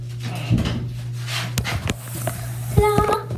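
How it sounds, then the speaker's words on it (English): Doors shut in a bathroom with a couple of sharp, close knocks and bumps over a steady low hum, while a voice briefly murmurs in the background. "the doors are shutting."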